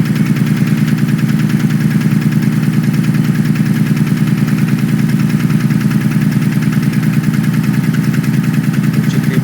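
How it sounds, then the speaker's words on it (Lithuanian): A 2018 BMW M550i xDrive engine idles loudly and steadily up close, a continuous low drone with a fine rapid pulsing and no voices over it. "pasakyti, ar čia variklio garsas geras?"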